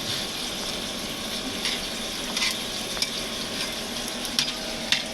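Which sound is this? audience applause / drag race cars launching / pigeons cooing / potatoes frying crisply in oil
potatoes frying crisply in oil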